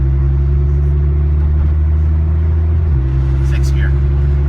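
A Nissan GT-R automatic accelerates hard through its gears, with a loud, close, steady low engine drone and a brief dip in pitch around a gear change before the rumble carries on.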